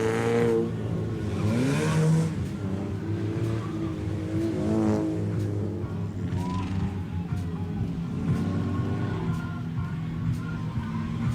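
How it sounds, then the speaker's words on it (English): Four-cylinder bone stock race cars roar around Grand Bend Speedway, engines revving and accelerating in overlapping passes with a constant loud motor drone throughout. "20 laps to the scheduled distance here with the four-cylinder bone stocks to wrap up what's been an amazing night here at Grand Bend Speedway"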